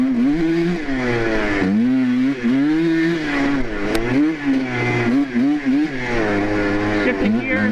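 A cheap two-stroke ATV engine revs hard and shifts through the gears, pitch climbing and dropping repeatedly, loud and close, with someone talking over it.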